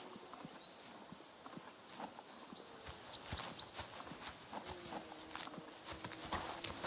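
Horse hooves clip-clop steadily in the medieval game Kingdom Come Deliverance 2, a fairly quiet walking rhythm of hoofbeats against soft ambient game background.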